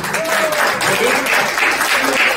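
A group of guests claps at a child's first birthday party during a prize giving, with a short, lively burst of applause close by and some faint voices mixed in.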